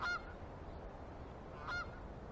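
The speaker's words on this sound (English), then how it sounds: "The appearance of the first geese flying north is a sure sign of spring." Geese flying north over the taiga in spring give two brief, distant honks about a second and a half apart, faint above a steady background hiss.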